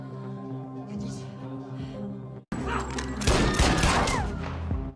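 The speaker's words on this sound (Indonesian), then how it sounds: "tembakan Adam itu mengundang pendengaran anak buah Ahmed yang lain" A loud burst of rapid gunshots and crashing impacts erupts midway in an action film shootout, over a dramatic soundtrack with layered noise.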